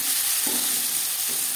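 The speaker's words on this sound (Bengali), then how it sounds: "তেল গরম হয়ে গেছে, এবার দিয়ে দেবো পেঁয়াজ কুচি।" Chopped onions fry in hot mustard oil for an aloo chicken curry, a loud, steady hiss and sizzle with a couple of faint stirring scrapes, with no one talking.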